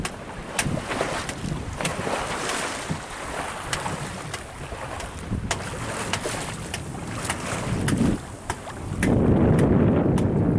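A boat moves through a channel on an autumn day, with continuous water wash and wind buffeting the microphone, scattered knocks and clicks, and a louder, rougher rush near the end.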